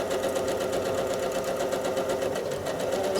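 A sewing machine free-motion quilting a pearled feather pattern runs at a steady, fast whirring hum with a continuous rapid needle rhythm, close and unbroken throughout, with no talking.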